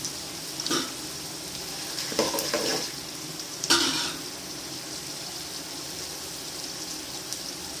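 Asafoetida dropped into hot oil for tamarind rice, producing a soft continuous sizzle with a few brief louder crackles and stirring scrapes, close but fairly quiet, with no talking.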